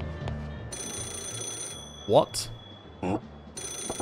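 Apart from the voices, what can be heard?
payphone ringing in the video game Yakuza 0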